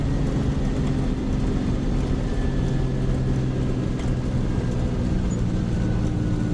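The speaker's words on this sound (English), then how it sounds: "Gotta listen to that motor scream." A truck's two-stroke Detroit diesel engine runs at close range with a loud, steady low drone and a continuous mechanical rumble, with no pauses and no voices.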